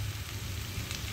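Pumpkin leaves hit potatoes frying in a pan and send up a steady, close sizzle. The hiss runs unbroken with no speech over it.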